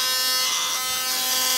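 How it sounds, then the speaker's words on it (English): A loud, broken electric toothbrush, with something loose inside, buzzes steadily and harshly for the whole moment, up close and alone. "my toothbrush is a little bit broken"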